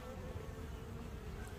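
Honeybees buzzing around their hives during the honey season, a steady low hum of many insects, faint and continuous, with no talking.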